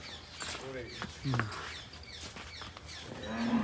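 Water buffaloes lowing on a Punjabi farm in Jor Singh village, with a deep moo midway and another drawn-out low call at the end. People talk throughout, and birds chirp faintly in the background.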